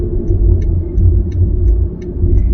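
A car turning left on a city road, its engine and tyres giving a loud, steady low rumble with faint regular ticking like an indicator above it.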